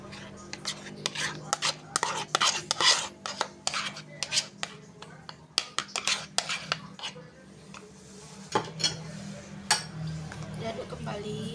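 Banana cake batter with melted margarine being stirred in a bowl, quick repeated clinks and scrapes of a utensil against the bowl, close and rhythmic, with a voice speaking briefly.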